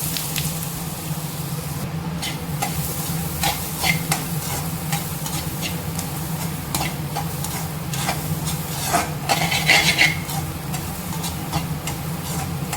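Mustard seeds, urad dal and chana dal stirred steadily in hot frying oil, with a continuous close sizzle and repeated scraping stir strokes throughout, no talking.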